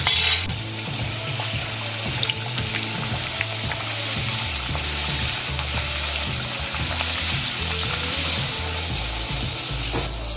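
Upvas vada fritters fry in hot oil, a dense continuous sizzle and bubbling heard up close throughout, with faint occasional clinks of a utensil.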